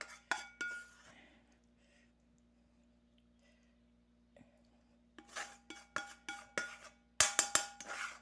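Cutlery and dishes clink and scrape as chicken vegetable pasta is served onto a plate, with scattered light taps early on, then a quiet stretch, then a dense run of close, bright metallic clinks and scrapes toward the end.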